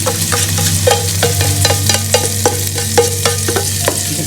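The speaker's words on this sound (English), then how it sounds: "Give it a stir." A spoon stirring ingredients in a cooking pot for nasi tomato, a rhythmic series of scraping strokes over a steady background sizzle, close and clear with no talking.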